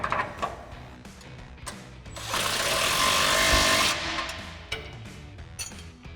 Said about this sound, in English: we'll go ahead and tighten these down with our 16mm socket on our impact and our 16mm wrench.